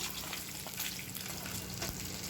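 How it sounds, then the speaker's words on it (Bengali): Pieces of katla fish fry in hot oil in a pan, giving a dense, continuous crackling sizzle at close range with no talking. "তো প্রথমে মাছগুলোকে আমি ভেজে নিচ্ছি"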